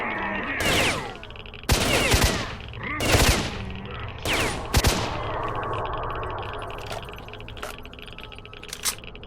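Several loud, sharp gunshots from S.T.A.L.K.E.R., the first few in quick pairs and bursts, then fainter scattered shots and clinks over a steady ambient background.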